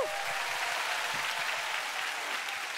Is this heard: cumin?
no